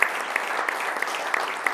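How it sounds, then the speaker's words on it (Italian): Studio audience applauding on an Italian sports TV broadcast, a steady, dense wash of clapping held at an even level throughout, with no voices over it. "un bel applauso da tutto lo studio"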